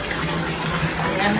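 Water runs steadily from a hot and cold tap in Hakone, Japan, a loud continuous gushing hiss through the whole moment, with a person talking over it.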